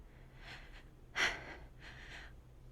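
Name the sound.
man panting, dramatized in a creepypasta narration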